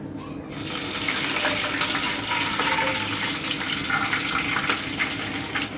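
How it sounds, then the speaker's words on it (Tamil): Water pours steadily into a pan for kesari sugar syrup, with oil already in it, making a continuous rushing splash that starts abruptly and stays loud throughout. "இது கூட 1 சொம்பு அளவுக்கு நம்ம தண்ணீர் சேர்த்துக்கலாம்."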